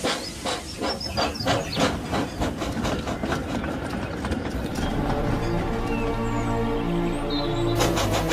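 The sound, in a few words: Thomas the Tank Engine steam train setting off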